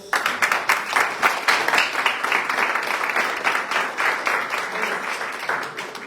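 Steady congregation applause at a church service, many hands clapping continuously for several seconds at an even, fairly loud level.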